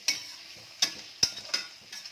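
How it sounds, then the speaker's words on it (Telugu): Paneer fries in hot oil in a pan as a faint continuous sizzle, broken by five sharp utensil taps and scrapes spaced irregularly, heard close up with no talking. "ఓకే ఫ్రెండ్స్, పన్నీర్ ఫ్రై అయిపోయింది, తీసేసుకుందాం."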